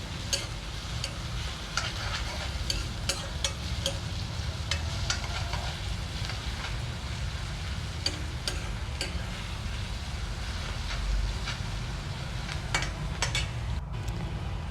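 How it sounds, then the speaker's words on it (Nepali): Onion and garlic are stirred and fried until brown for a Nepali home-cooked dish: a continuous close sizzle broken by repeated scraping and clinking strokes of a spoon against the pan, with no speech. "त्यसलाई चलाएर ब्राउन कलरको हुन दिन्छु"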